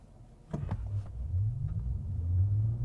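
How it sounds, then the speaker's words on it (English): A 2021 Polestar 1 in full electric mode launches hard from standstill: a few knocks at the start, then a low, steadily rising electric whine and road rumble building as it accelerates. "Let me do a full electric launch real quick."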